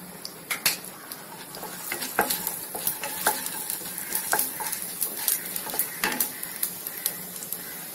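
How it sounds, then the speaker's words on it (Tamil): Black peppercorns frying in a pan for curry leaves rice, a crackling sizzle broken by sharp popping bursts and repeated scraping strokes of a spoon, close and fairly loud, no talking. "அதில் மிளகு போட்டு வறுத்துக்கணும்."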